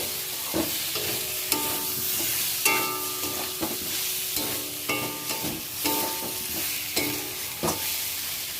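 A spoon stirs a potato, pointed gourd and soybean curry seasoned with fried cumin in a pan, giving repeated scraping and clacking strokes over a steady, close sizzle.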